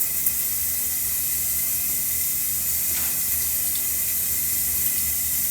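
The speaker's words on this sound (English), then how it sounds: "I'm about to wash my hair." Water runs steadily from a tap into a sink during a hair wash, a constant even hiss and splash that stays level throughout with no pauses and no talking.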